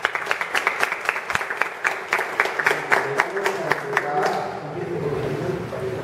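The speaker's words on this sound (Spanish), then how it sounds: "Les pido a ustedes un aplauso para la licenciada Violeta." Audience applause for a state prosecutor at a gathering, a dense burst of many hands clapping that builds and carries for several seconds before thinning out, with scattered cheers and crowd murmur underneath.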